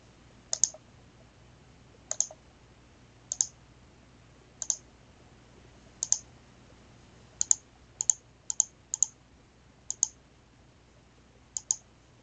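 Mouse clicks in an iOS Swift physics game demo, each one spawning a new ball: about a dozen crisp, isolated clicks at irregular intervals over a quiet background.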